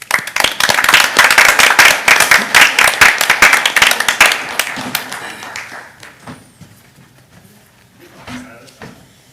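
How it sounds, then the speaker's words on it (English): At a school board meeting, a crowd applauds loudly with dense, steady clapping that fades out after several seconds, leaving a quiet room with a few scattered claps. "please join me in a round of applause"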